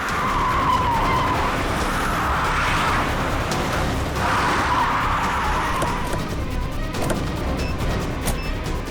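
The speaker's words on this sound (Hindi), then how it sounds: "गाड़ी रोक दीजिए सर" A car brakes hard and its tires skid with a loud, sustained screech that swells and fades across several seconds, ending in rough scraping noise.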